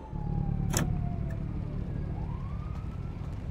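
An idling car engine left running in GTA RP, a steady low rumble throughout with a faint tone sliding across it and a brief sharp click near the start.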